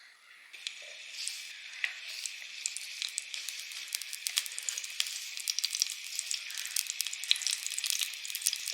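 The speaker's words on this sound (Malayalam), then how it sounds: "ചട്ടി ചൂടാ, എണ്ണ ഒഴിക്കും." Oil heating in a hot pan on a stove for a Kottayam-style beef dry fry, giving a faint, steady crackling sizzle with scattered sharp pops that slowly grow busier.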